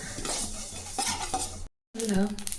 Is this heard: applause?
no